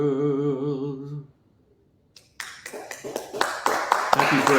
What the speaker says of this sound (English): We had a round of applause from people here